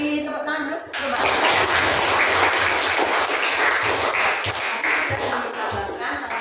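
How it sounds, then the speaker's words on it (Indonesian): A classroom of students applauding, dense sustained clapping throughout with children's voices and some chatter underneath. "Silakan beli tepuk tangan dulu."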